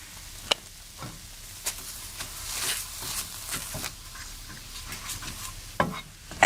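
Curry paste frying in a pan and being stirred, clumping as it cooks; soft steady sizzle with scattered scraping stir sounds and occasional sharper clicks, fairly quiet and close.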